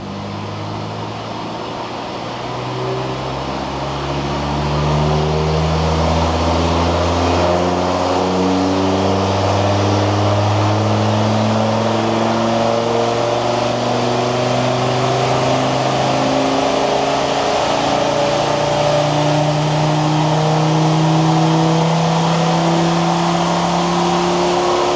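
A Land Rover Defender Td5 diesel, stage 2 remapped, runs hard on a rolling dyno, its steady drone climbing in pitch as it pulls through the gears, loud and close with no talk.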